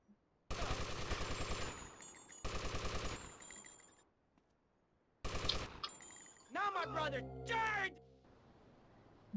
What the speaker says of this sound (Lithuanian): Jie šaudo ten tiesiai kai kurie.